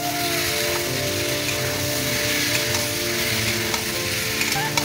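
Food frying and being stirred in a pan, a steady close sizzle with spatula scraping throughout, no voices.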